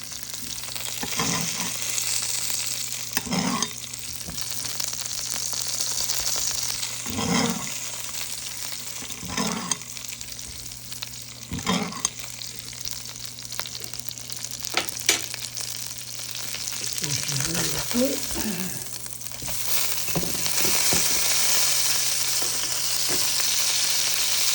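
Green chili burgers being basted sizzle continuously in a frying pan, with repeated scraping and spooning sounds at intervals over the steady frying hiss and no talking throughout.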